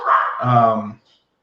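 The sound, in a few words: dog barking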